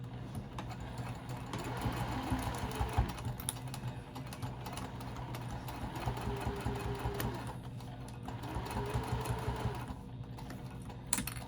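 A sewing machine back tacking and then stitching along a patchwork bag, a fast steady mechanical whirr of needle strokes at close range with brief pauses and no talk.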